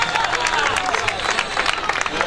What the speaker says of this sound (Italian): abbiamo applausi per Claudia Pinna che toglie il traguardo in prima posizione